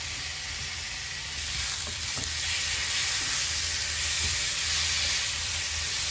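Finely chopped tomatoes with spices such as chili sizzle and hiss steadily in a hot frying pan for a masala karela dish, a continuous close frying sound that grows slightly louder as it goes.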